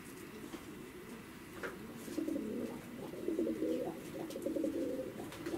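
Yerevan breed pigeons cooing in Tbilisi, Georgia, with low, repeated throaty coos in soft rolling bursts over a quiet ambient background.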